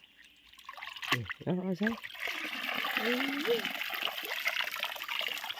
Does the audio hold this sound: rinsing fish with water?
yes